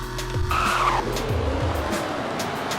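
A Camaro sports car in the Roblox game Greenville revs and accelerates hard, engine tones rising through gear shifts alongside loud tire squeal, close and continuous.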